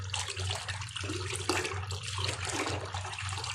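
Water running from a tap while freshly cut fish is washed, a steady splashing gush with small fluctuations, fairly faint and continuous, with no talk.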